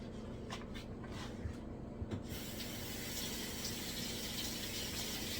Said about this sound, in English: I'm just gonna go ahead and rinse it before I start chopping it